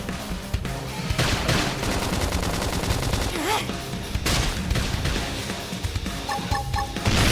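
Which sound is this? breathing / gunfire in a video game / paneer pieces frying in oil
gunfire in a video game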